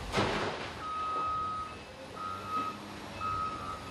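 A heavy truck at a tunnel construction site sounds repeated reversing beeps, a steady series of evenly spaced tones after a brief low thump, moderately faint over a low machinery rumble.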